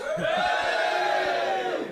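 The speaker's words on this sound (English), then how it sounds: "Who booed that? Who was booing already?" A live audience at an end-of-season party show boos in a steady, sustained, droning wave of many voices, loud and close, lasting the whole moment without a break.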